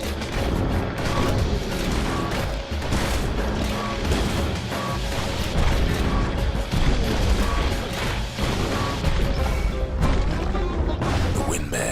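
Scrap musket firing piercing shots in the video game Bastion, loud repeated blasts and crashes over a dense, continuous game soundtrack.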